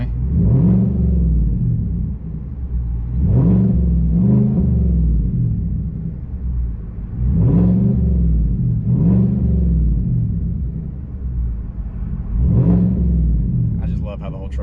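A truck engine fitted with a modified exhaust revs up repeatedly, about five deep, rumbling pulls that swell and fall back to a throbbing idle, recorded close and loud.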